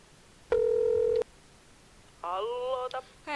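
Telephone dialing tones as a call is placed: one long steady tone followed about a second later by a shorter, wavering tonal burst, alone in a quiet room.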